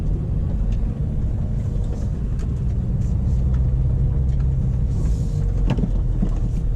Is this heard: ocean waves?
no